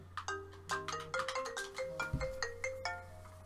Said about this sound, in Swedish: Oj, nu ringer någon här.